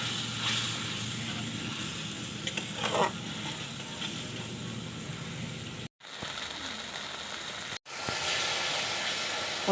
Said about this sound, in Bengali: বন্ধুরা দেখুন মশলাটা ভালো করে কষিয়ে নিচ্ছি।